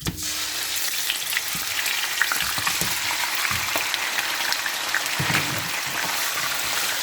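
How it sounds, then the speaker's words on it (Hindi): Chicken pieces fry in a pan for a chicken curry, giving a steady close sizzle with scattered crackles and pops throughout and occasional stirring scrapes. "चिकन को हम फ्राई कर लेंगे।"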